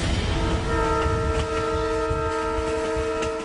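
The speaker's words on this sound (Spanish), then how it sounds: "Son los trenes más extremos del mundo." A train on one of the world's most extreme railway lines, heard close and loud with steady rumbling wheels beneath a sustained multi-tone horn blast that holds throughout.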